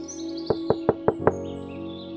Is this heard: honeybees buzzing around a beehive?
no